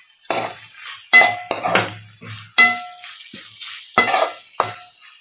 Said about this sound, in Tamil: ஊற்றி நல்லா கலக்கி போட்டுக்கோங்க.